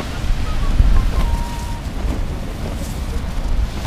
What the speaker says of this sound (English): the wind is still howling though